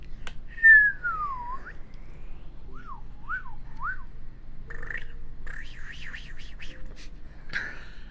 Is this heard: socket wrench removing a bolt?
no